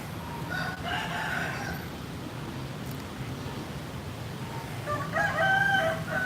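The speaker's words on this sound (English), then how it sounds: "We got some more roosters over here." Roosters crow outdoors, one call early on and a louder, fuller crow near the end, over a steady ambient rumble with no voices.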